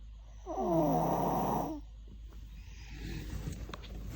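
A person snores with one loud, rasping, drawn-out breath near the start, then quieter breathing against a steady low background hum.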